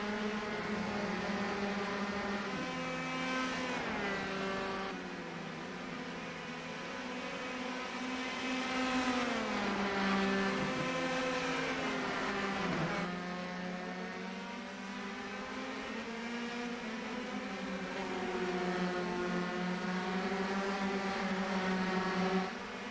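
Several race cars in a racing video game of the Austrian Grand Prix drone together with steady, overlapping high-pitched engine tones that rise and fall as they shift gears, continuous and moderately loud.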